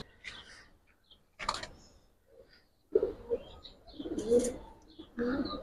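Giribaz pigeons coo in short, soft bursts close by, with low throaty calls and a few brief chirps separated by quiet gaps, and no talking.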